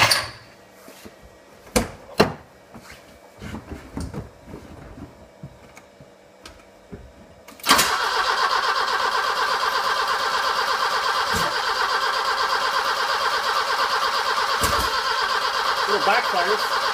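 A few sharp pops and cranking bursts, then an old BMW E30 engine catches and runs at a steady, loud idle with occasional backfire pops from the exhaust.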